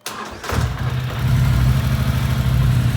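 A brief cranking whir as a 2012 Polaris Scrambler 850 HO ATV engine catches, then settles into a steady, loud, rumbling idle close by.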